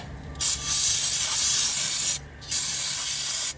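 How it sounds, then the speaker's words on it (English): Throttle body cleaner sprayed from an aerosol can with a straw onto the throttle body of an OBS Chevy truck, two long, loud, steady hissing bursts separated by a short pause. "spray your throttle body with it"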